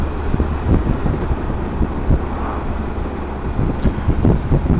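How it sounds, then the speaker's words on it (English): Strong wind blows across an exposed hilltop, a steady rumbling roar with gusty low buffeting against the microphone throughout, no voices. "Definitely quite windy up here."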